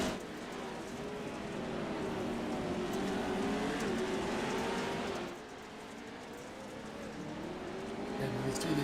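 Sprint car engines in the iRacing sim at the Chili Bowl drone and whine across a dirt-track race, a steady layered roar that dips briefly midway then swells again, with a commentator talking over it.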